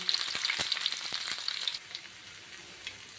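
Crushed ginger and curry leaves fry in hot coconut oil with a bright, crackling sizzle and sharp spattering pops up close, easing to a quieter hiss after a couple of seconds.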